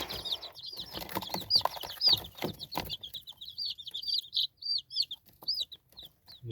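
Silver and golden phoenix chicks kept in a tote peep in a dense chorus of rapid, high, rising chirps, close and busy at first with some rustling, then thinning to scattered individual peeps.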